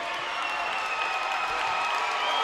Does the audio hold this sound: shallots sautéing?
no